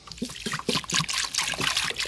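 Water poured and sloshing while washing homemade butter in a bowl, a few uneven trickling and splashing bursts close by, moderately loud with no talking.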